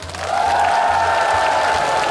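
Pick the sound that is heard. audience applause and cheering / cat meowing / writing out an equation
audience applause and cheering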